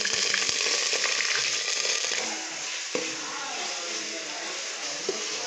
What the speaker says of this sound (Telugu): ఆయిల్ వేడైంది, దీంట్లో ఎండుమిర్చి, కరివేపాకు, జీలకర్ర వేసుకుందాం.